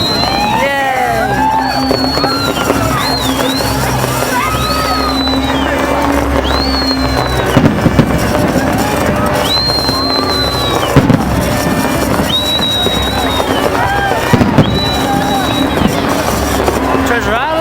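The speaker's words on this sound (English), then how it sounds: "There are fireworks in every direction." Fireworks burst in every direction over Las Vegas, with repeated booms and crackles and whistling rockets rising over a steady roar, while people nearby talk and exclaim.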